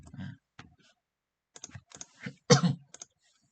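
Keys tapped on a computer keyboard in short irregular bursts of clicks separated by brief pauses, close and fairly quiet.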